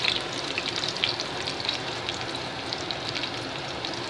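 Green chili and onions fry in a pan, giving a steady, close sizzle scattered with small crackling pops, with no voices.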